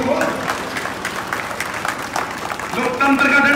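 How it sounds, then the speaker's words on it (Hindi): An audience at a political rally applauds loudly and continuously, a dense wash of clapping from a large crowd that swells near the end, with a voice faintly mixed in. "ठोको ताली ठोको"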